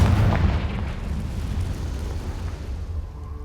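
A fiery blasting-spell explosion from Hogwarts Legacy on Xbox Series X, a loud low booming rumble that starts at full force and slowly decays over several seconds.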